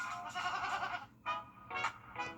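Goats bleat several times in a row, loud and near, with long wavering calls separated by short pauses and no talk over them.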